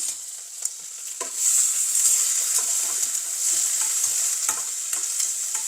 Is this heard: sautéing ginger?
yes